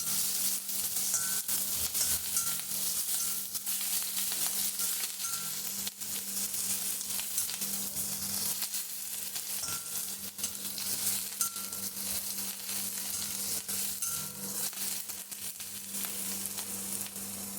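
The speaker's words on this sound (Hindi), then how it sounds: "ये हमने एक बारीक कटा हुआ प्याज लिया है, इसको डाल देते हैं और बस इसको हम 1 मिनट के लिए भूनेंगे" Finely chopped onion fries in a pan as filling for rice flour momos, a steady close sizzle with occasional stirring and faint clinks, continuous and without talk.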